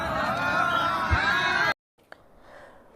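A crowd at a political rally cheers and shouts loudly and steadily, then cuts off abruptly into near silence with faint murmur.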